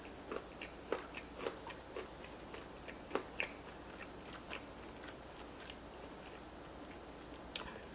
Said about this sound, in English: The crust is thin. You can hear it's kind of more like a cracker. Crunchy.